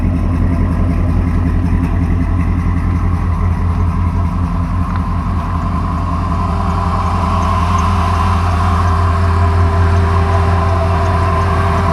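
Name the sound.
1955 Chevy truck engine idling with 3-inch exhaust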